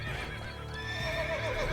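A horse or unicorn in The Witcher 3 video game gives a short, loud whinny with a shrill rising-and-falling neigh, lasting under two seconds and heard on its own.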